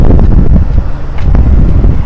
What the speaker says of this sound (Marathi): वारा पण छान सुटलेला आहे.